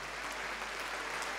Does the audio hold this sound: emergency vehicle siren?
no